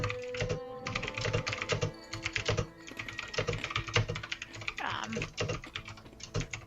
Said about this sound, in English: All the typing noises.